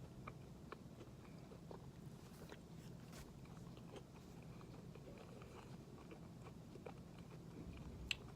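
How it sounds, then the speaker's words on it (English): Soft, continuous chewing of a Nature Valley sweet and salty cashew granola bar, with small crunches and clicks from the oats and cashews, close to the mouth and quiet throughout, with no talking. "I'm getting the cashews more as I chew on it."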